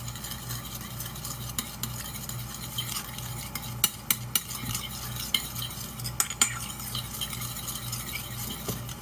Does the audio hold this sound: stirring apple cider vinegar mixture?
yes